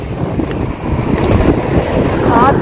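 Hot wind blowing outdoors in Dubai on a sunny morning, a steady rushing roar buffeting the microphone at close range, growing slightly stronger throughout with no talk.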